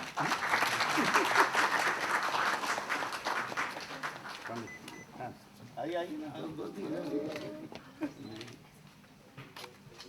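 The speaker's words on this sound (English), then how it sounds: "आप सबसे गुजारिश है कि जोरदार तालियां बजा दें।" Applause from an audience at the 17th Rajiv Gandhi Global Excellence Award ceremony in 2014, a dense burst of clapping over the first few seconds that thins out, with voices and scattered sounds continuing underneath afterward.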